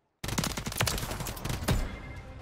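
Rapid automatic gunfire from an SVA 545 rifle in Call of Duty MW3 on the Shoot House map, loud bursts of shots over about two seconds with a dense rattling tail.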